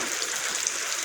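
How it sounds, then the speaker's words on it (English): Steady rain falls outside a backyard fort, heard as a close, even hiss of droplets with no talking. "It's raining."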